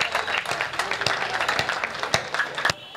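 An audience at a Hindi comic poetry gathering claps loudly for a poet, the dense applause running steadily before dropping off abruptly at the end.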